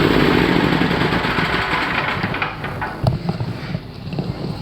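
A gas-powered electric generator runs steadily, a loud continuous engine drone with rough low rumble close to the microphone, with some wind-like hiss on top.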